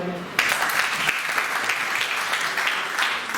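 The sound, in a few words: applause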